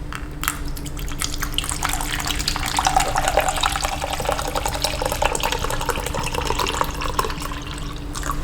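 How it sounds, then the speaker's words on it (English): Calcium chloride solution, 250 ml, poured into a laboratory beaker makes a steady, close splashing trickle of liquid that runs on evenly without pause. "I will put 250 ml of calcium chloride into a beaker"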